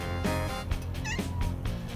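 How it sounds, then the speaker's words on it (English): A cat meows several times up close, short rising cries with a whiny, slightly strained tone, over a steady background hum. "How you doing, little cute cat?"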